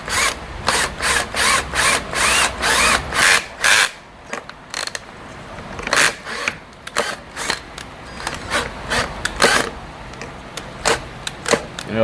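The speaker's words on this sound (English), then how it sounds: "It is a little tricky when you're drilling because you're going into this step surface." A power drill bores into a stepped surface on a 2018 BMW S1000RR motorcycle part, with short bursts of high whine separated by pauses, fast at first and then sparser, close and loud.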